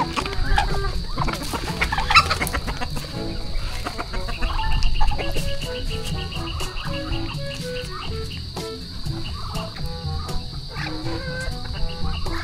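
Chickens cluck repeatedly at close range over a steady high insect-like chirring drone, with scattered short calls throughout.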